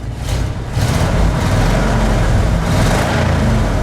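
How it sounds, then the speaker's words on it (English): A warm 1977 Ford F350 Holmes wrecker with a 440 engine idles steadily and loud up close, its low rumble continuous with a slight swell partway through and no voices. "An engine just sitting idling warm, showing right on the end."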